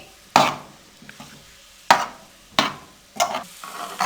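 Mashed potatoes cooking in a pan over a medium flame for potato chutney: four or five loud, scraping spatula strokes with brief sizzle, separated by quieter pauses and a few light taps.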